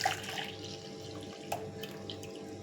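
Boiled milk poured from a pan into a bowl, a short close liquid stream with a slight splash near the start and a brief clink midway, no talking.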